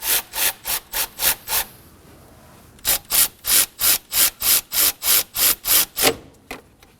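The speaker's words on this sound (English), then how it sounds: "Now we're gonna go ahead and snug up the bottom bolt." Ratchet snugging up the bottom starter bolt on a 2016-2020 Kia Sorento 2.4L four-cylinder; quick, loud, close clicking strokes in two rhythmic runs with a short pause between, no voices.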